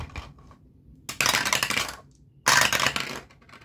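Two dice are rolled, giving two separate bursts of rattling, clattering tumbles on a hard surface, each lasting close to a second, nearby and alone with no talking.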